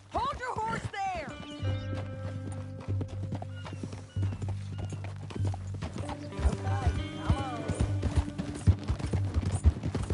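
Horse hooves clip-clopping at a steady walking rhythm in the Red Dead Redemption 2 video game, set against a low droning music bed, with a neigh near the start and someone talking over the hoofbeats.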